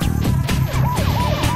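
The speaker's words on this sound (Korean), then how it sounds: "이 골목엔 사이렌 소리만 요란하다." A patrol car siren yelps in quick rising and falling sweeps along a narrow residential alley, loud and close over a low engine rumble.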